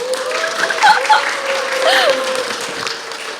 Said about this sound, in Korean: 매우 연출된 환호 감사합니다